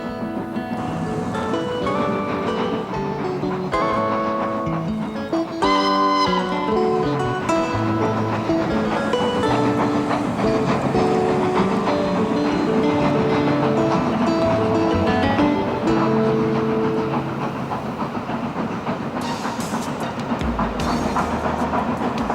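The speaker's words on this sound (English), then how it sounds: "Passing trains heading for the North Wales coast add to the atmosphere" Passing train heading for the North Wales coast near the castle town of Conwy, a steady rumbling roll with rhythmic clatter that fills the whole stretch, heard under background music and no talking.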